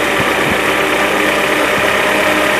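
A 1996 Mercedes C220 W202 engine idling roughly in close range, a steady loud mechanical drone with a few faint knocks or stumbles near the start.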